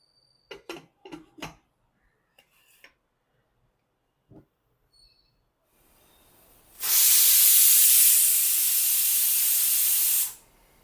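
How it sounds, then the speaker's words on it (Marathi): A pressure cooker cooking tangy amaranth-leaf dal with tamarind lets out one loud, steady, hissing steam whistle lasting about four seconds, after a few faint clicks and taps. "इथे कुकरच्या चार शिट्ट्या झालेल्या आहेत"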